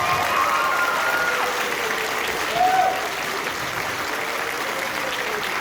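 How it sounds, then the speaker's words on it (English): An audience at a high school end-of-year concert claps for the school jazz band, a dense steady applause that swells briefly near the middle and then carries on evenly, with a few faint voices in the crowd. "One more round of applause for the jazz band."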